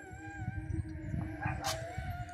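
A dog howls in the dark, its drawn-out cries rising and falling alone in the night, fairly near and moderately loud with no talking over it.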